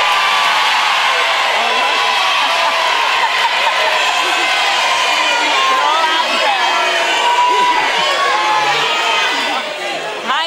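A studio audience at a dating show cheers, whoops and shouts loudly, a dense and continuous wall of excited voices that stays strong from start to finish.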